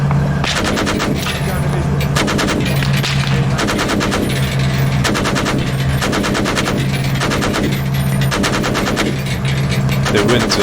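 Rapid automatic gunfire in the military shooter Arma 3, loud repeated bursts of machine-gun fire with a few heavier reports and a low hum behind them, steady through the whole stretch.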